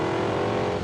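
Race cars including a Porsche 928S, a Ferrari GTO and a Lamborghini Countach roar with a steady, loud engine drone at close range, and no voices are heard.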